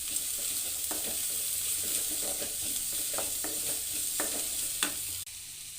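Dried red chillies sauté in a hot oiled pan, giving a steady crackling sizzle with repeated stirring scrapes and clicks from a spoon against the pan, close and continuous until a brief drop near the end.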